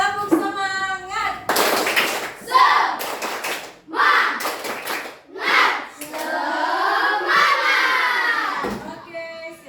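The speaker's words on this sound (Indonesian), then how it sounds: "Sebelum lanjut ke pembelajaran, berdiri dulu semua tepuk semangat." Schoolchildren in a classroom perform a rhythmic spirit clap, bursts of loud clapping in set patterns alternating with shouted chanting voices, close and energetic; a teacher's voice leads at the start.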